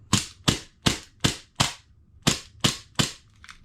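An Elite Force 1911 airsoft gas pistol fitted with a rebuilt gas magazine fires eight sharp, close shots at a brisk, fairly even pace, with a slightly longer gap before the last few and no talk.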